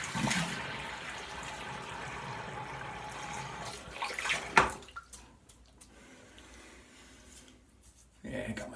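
A tap runs while someone rinses after a shave, giving a steady rushing splash that stops partway through, followed by quieter dripping and small handling sounds.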